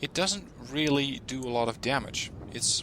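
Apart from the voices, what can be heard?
None of the usual background noises is heard.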